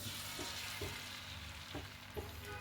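Four beaten eggs hit a hot pan for an omelette and fry with a soft, steady sizzle, broken by a few faint scraping stirs near the end; no one speaks.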